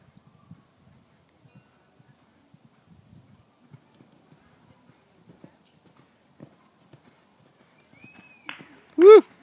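Sparse hoofbeats thud softly at a steady pace on soft ground, then a loud whoop of a voice rises sharply at the end.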